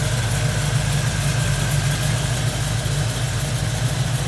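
A 350 small block V8 built by Long Engines in Maryland, not a race build, idling with a continuous low rumble at an even, steady pulse, loud and close with no talk over it.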